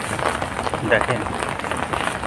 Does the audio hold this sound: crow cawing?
no